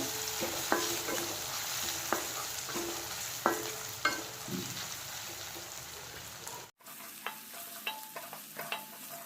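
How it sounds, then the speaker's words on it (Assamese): Ginger garlic paste frying in a pan for chana dal, a steady sizzle with sharp intermittent scrapes and clicks of a spoon stirring, close and alone with no talk. "এতিয়া ৰঙচুৱা হোৱালৈকে ভাজি থাকিম।"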